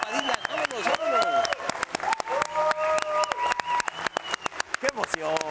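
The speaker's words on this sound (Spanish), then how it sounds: "Un aplauso para Dylan." Studio audience applauding for Dylan, a young boy on a Spanish-language TV show, a dense run of close, crisp hand claps continuing throughout while voices speak and cheer over the top.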